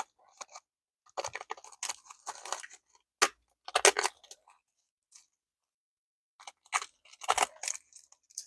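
Scissors cut around a handmade bowl in short, crisp snipping bursts with pauses between them, close up and alone.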